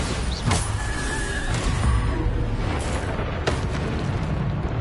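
The Bombarda spell explosion in a Hogwarts video game gives a loud, sustained rumbling blast with a few sharper bursts, with no talk audible.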